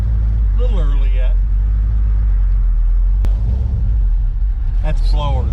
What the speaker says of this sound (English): That's blower surge